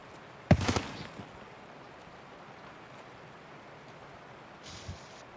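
Gunfire in the shooter game Escape From Tarkov: one loud, close shot cracks early with a short echoing tail, then a much fainter, more distant shot follows a few seconds later over quiet background noise.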